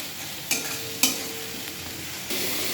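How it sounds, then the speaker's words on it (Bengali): Onions fry to a light golden brown in a pan, a soft constant sizzle punctuated by a few distinct spatula scrapes and taps as they are stirred, close and moderately loud. "পেঁয়াজটাকে হালকা গোল্ডেন ব্রাউন করে ভাজতে হবে একটু"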